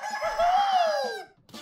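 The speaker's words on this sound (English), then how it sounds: "I didn't even know there was a chicken down there." A chicken in the video game ALTF4 lets out one loud, drawn-out crowing call, close and clear, ending abruptly with a short trailing cluck.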